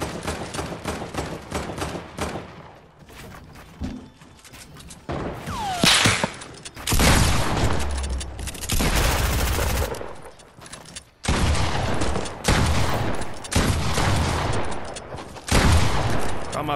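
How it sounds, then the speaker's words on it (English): Gunfire in the Fortnite video game, rapid bursts of automatic shots in several loud clusters separated by short quieter gaps. "Keep suppressive fire on him."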